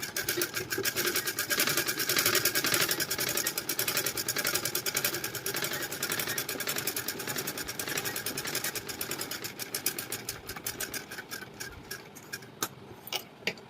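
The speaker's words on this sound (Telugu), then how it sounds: "మళ్ళీ పాదం దించి కుట్టడం అయితే స్టార్ట్ చేయాలి ఇలా." A sewing machine runs steadily, stitching the neckline of a blouse in a tailoring lesson, its dense rapid needle clatter loud and close and continuing for the whole stretch with a slight easing near the end.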